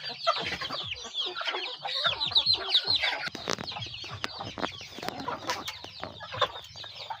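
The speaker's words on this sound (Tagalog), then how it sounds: "Dami rin itong nakakulong natin mga alagang manok." Several chickens cluck and chatter nearby in a dense, overlapping flurry of short calls, steady throughout.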